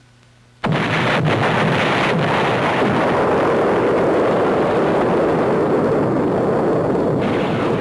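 A massive explosion of munitions at the Port Chicago pier bursts in suddenly after a brief quiet, then roars on as a loud, sustained rumbling blast.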